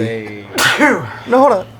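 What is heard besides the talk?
sneeze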